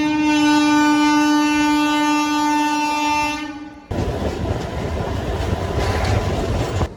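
Kakinada to Vijayawada MEMU Express train 17258 sounds a long, loud harmonic horn for several seconds, then cuts to a loud steady rush of wheels and clatter as it runs at speed.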